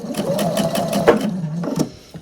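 A sewing machine runs a back stitch on a denim placemat, a close, loud, rapid whirring chatter that slows and shifts briefly near the end as the stitching direction reverses.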